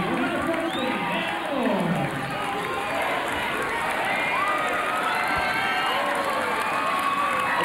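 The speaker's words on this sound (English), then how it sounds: "The crowd's on their feet here. Everybody's excited." A packed basketball crowd at Hamer Gymnasium stands and cheers through the closing seconds of an NCAA regional final, a broad, continuous roar with squeaking sneakers and a commentator talking over it.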